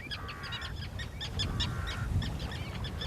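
Common terns at their nesting colony give repeated harsh, strident calls in quick bursts, several birds overlapping close by against a busy background.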